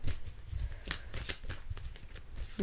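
Tarot cards shuffled by hand, a close run of crisp riffling and slapping bursts in an irregular rhythm, with no talk.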